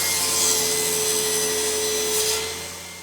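Thin hardwood stock about 1/16 inch thick being cut for a tiny box-joint box, a steady continuous buzzing saw tone with a high rasping edge running throughout, close and fairly loud, easing off near the end.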